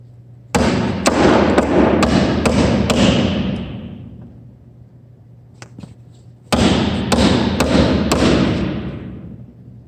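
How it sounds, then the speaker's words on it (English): Nails driven into a wooden bulkhead angle with a hammer: two bursts of five or six sharp, ringing blows in quick rhythm, close and loud, with a quieter stretch between them. "nailing an angle is not the quickest thing, and this is why I started my nails beforehand"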